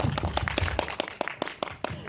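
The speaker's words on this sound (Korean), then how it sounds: "네 박수 한번." An audience at an indie film talk event for the Korean film The Ripple claps in a brief round, with distinct claps at a moderate distance mixed with some low voices.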